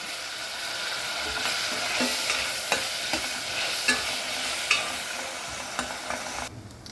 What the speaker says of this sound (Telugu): నూనె వేడెక్కింది ముందు ఎండ్రాయిలు లేపుకొని పక్కన పెట్టుకోవాలి